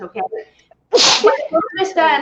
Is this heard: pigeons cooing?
no